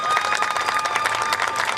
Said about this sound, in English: Folks, how about a huge round of applause for ourselves?